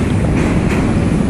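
Strong wind buffets the roof of a fast-moving train, a loud, continuous roar of rushing air over a low rumble, with no voices.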